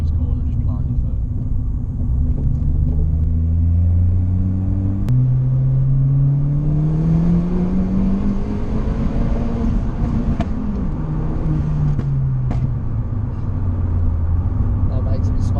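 A 240bhp Ford Fiesta ST on hydraulic suspension pulls hard through the gears, engine note climbing and dropping with each shift under a loud cabin rumble, with a couple of sharp exhaust cracks and a voice speaking over it.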